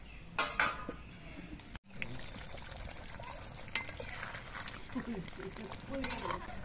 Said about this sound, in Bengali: এবার কিছুক্ষণ ফুটিয়ে নিতে হবে।